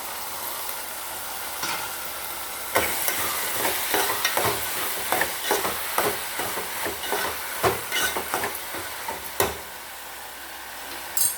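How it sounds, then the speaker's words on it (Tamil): Turkey berries sauté in hot oil with tomatoes in a pan for a kara kuzhambu. A soft continuous sizzle runs throughout, with repeated scraping and stirring strokes of a spoon. "சுண்டக்காவும் இந்த எண்ணெயிலே கொஞ்ச நேரம் வதங்கட்டும்"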